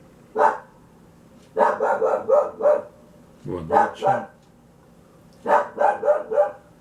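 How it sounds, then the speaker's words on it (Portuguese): A dog barks outside in short bursts, several quick barks grouped together with pauses between, moderately near, with a brief spoken greeting mixed in. "Um cachorrinho atuando ali fora."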